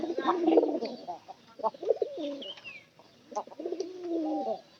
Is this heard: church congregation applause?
no